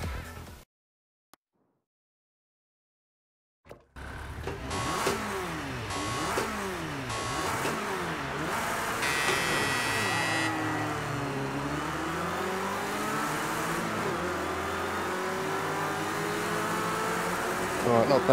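After a few seconds of silence, a 1971 Ford Escort RS1600 and rival racing cars roar off the start in the Project Cars 2 racing game on a Scotland course. The engines howl loudly as revs climb, dip and climb again through repeated gear changes.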